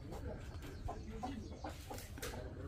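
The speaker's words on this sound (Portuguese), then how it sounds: "Tem uma galinha presa ali dentro." A hen shut inside a small fenced chicken coop on a rural property gives faint, scattered clucks over a low, steady outdoor background.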